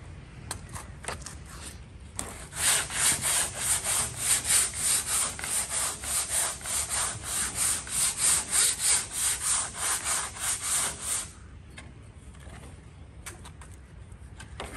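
Hand sanding of body filler on a hull with steady back-and-forth rasping strokes, close and fairly loud, running several seconds before fading to quiet background.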